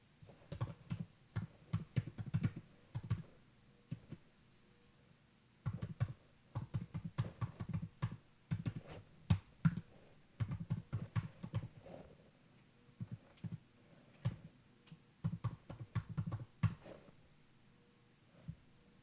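Bursts of keys clatter on a computer keyboard in short, uneven runs with pauses between them, close and fairly quiet in an otherwise still room.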